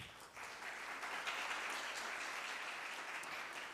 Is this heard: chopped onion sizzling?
no